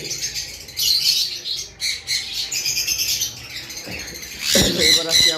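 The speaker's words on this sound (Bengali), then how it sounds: "আমাদের কাছে পারবুলু রয়েছে পারবুলু লাভবার্ড পারবুলু ভায়োলেট" Loud, chattering lovebird squawks and chirps fill the clip, with a burst of harsher calls near the end, close by.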